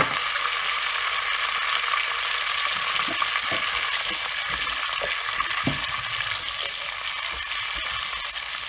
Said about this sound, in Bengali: এখন আমি এই গরম তেলে সব থেকে পেঁয়াজ দিয়ে দেব এক কাপ পেঁয়াজ